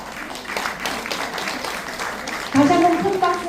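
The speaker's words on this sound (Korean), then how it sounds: "다시 한번 큰 박수 부탁드립니다" Steady, fairly loud applause from an audience at a Buddhist lay missionary corps training gathering in Seoul, filling the room with voices mixed in, swelling briefly near the end.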